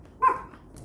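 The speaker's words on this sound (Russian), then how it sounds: "Собаки тут с ума сошли." A dog gives a single short bark at moderate distance, followed by a faint trailing sound, with no talk over it.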